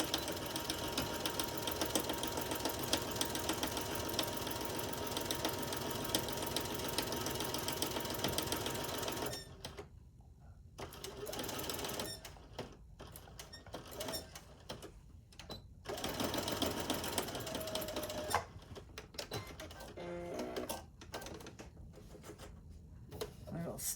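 Sewing machine stitching a quarter-inch seam on a Christmas quilt of half-square triangles, a steady continuous whir running loud and close, then breaking into short start-stop bursts with pauses between.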